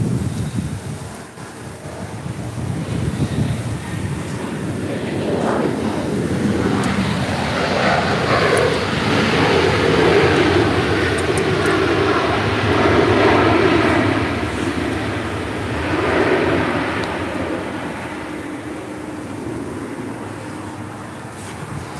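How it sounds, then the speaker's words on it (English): Alaska Airlines Boeing 737-800 arriving at LAX from San Diego, a broad jet roar that swells and holds at moderate distance, mixed with gusty wind noise on the microphone. "We have another San Diego flight coming in with Alaska, flight 300. 737-800."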